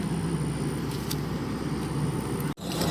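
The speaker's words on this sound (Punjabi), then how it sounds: "ਅਸ਼ੋਕ ਲੈਂਡ ਦਾ ਇੰਜਨ ਆਉਂਦਾ ਇਹਦੇ ਵਿੱਚ 101 HP ਦਾ" A steady, loud 101 HP Ashok Leyland diesel engine on a Swaraj combine harvester idles and rumbles continuously nearby, with a brief dropout near the end before the drone resumes.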